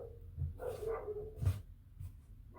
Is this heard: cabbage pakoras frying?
no